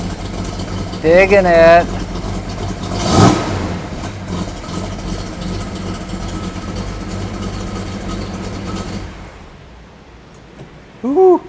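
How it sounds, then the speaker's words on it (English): A 1969 Dodge Charger 500 with a 440 engine and dual exhaust idles with a steady, deep rumble, briefly swelling as it revs, while someone talks over it. "there's the sound of that dual exhaust"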